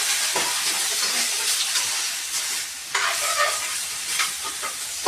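Pork leg (pata) sautéing in a hot pan, a loud dense sizzle and hiss with scraping stirs and bursts of steam, close and continuous, no voices.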